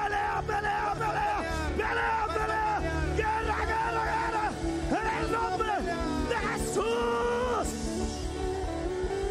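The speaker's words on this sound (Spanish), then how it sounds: "Un grito de guerra." A church congregation shouts a war cry together, loud overlapping yells and whoops rising in repeated bursts across a noisy crowd, with speech-like voices throughout.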